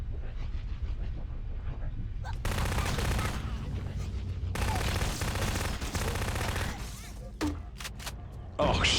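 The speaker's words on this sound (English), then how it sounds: "This is the submachine gun you get in Half-Life 2" The Half-Life 2 submachine gun fired in Halo CE with the XAM mod: two long, loud sustained bursts of rapid automatic fire, followed by scattered single shots and game sounds, with voices heard around the shooting.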